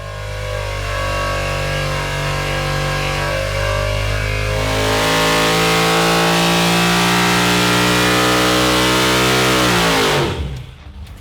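A carbureted car engine on a test run, revving loud and steady for about ten seconds, its pitch climbing midway and then dropping sharply as the throttle closes near the end; no voices.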